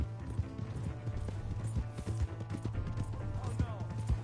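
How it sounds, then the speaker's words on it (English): Horse hooves gallop in Red Dead Redemption 2 with a fast, irregular clatter of thuds under a steady game soundtrack drone, with scattered voices and shouting mixed in. "Hey, that's my horse!"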